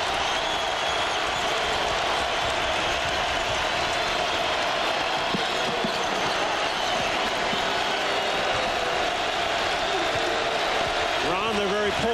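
A large basketball arena crowd roars and cheers continuously at Iowa State at Kansas, 2001, a dense wall of noise with faint voices carrying over it.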